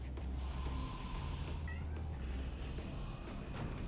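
A cat meows, brief and faint, under the ongoing din of a StarCraft match broadcast.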